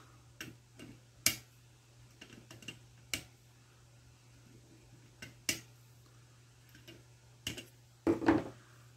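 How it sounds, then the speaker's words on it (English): Small cutters snipping off soldered component leads on an infrared proximity detector kit board, sparse sharp clicks spaced a second or more apart over a low steady hum, with a louder double snip near the end. "And time to snip them off."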